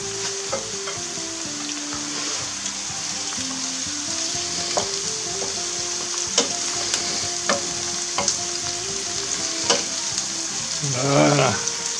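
Eggplant fries in a hot pan with onions, sizzling steadily throughout, with scattered clicks and scrapes of stirring and a louder stir near the end.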